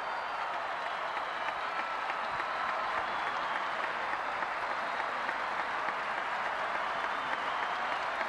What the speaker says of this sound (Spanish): Escuchamos los aplausos.